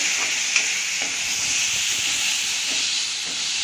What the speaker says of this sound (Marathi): कांदे मिरची व्यवस्थित शिजलेले आहे त्यानंतर आपण यामध्ये टमाटर टाकून देऊ